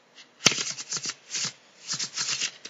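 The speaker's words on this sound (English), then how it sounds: "get it ready for your first riffle shuffle" Deck of playing cards riffle-shuffled in a card-trick tutorial, a sharp snap followed by several bursts of fluttering, riffling card noise, close and crisp.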